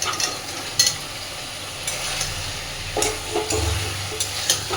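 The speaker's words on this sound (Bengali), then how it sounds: "এই সময় আমি ভেজে রাখা মাছগুলো এর মধ্যে দিয়ে দিচ্ছি।" Fried eel pieces go into an oily, sizzling masala in a pan and are stirred, a soft steady frying hiss under occasional scraping and stirring knocks.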